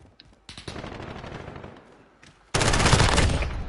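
Rapid rifle gunfire in a video game, with a short burst of shots, a sparser run of rounds, then a loud, dense volley at the end, heard alone with no talk.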